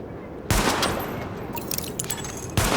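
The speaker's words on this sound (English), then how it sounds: "Weapon test initialized. Open fire at the highlighted targets." Gunfire on a weapon test range in the video game Tom Clancy's The Division, with loud bursts of shots starting abruptly, a denser rattling volley midway, and another burst at the end.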